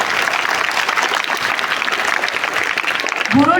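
Schoolchildren at a primary school Guru Purnima celebration in Mehsana clap together in a dense, steady round of applause welcoming the principal, loud and sustained, with a voice starting at the very end.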